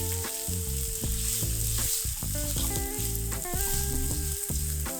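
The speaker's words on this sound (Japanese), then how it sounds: "フェンネルを10秒ほど加熱したら玉ねぎを加えて飴色にしていきます。" Onions sizzle loudly and continuously in hot oil with fennel and other spices for a Sichuan pepper pork curry. A dense, close, crackling fry runs throughout with faint stirring and no voices.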